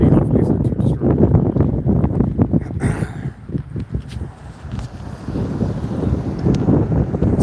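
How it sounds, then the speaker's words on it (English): Heavy wind buffets the microphone in rough, loud gusts, with occasional indistinct voices underneath. "It's gonna get a little windy."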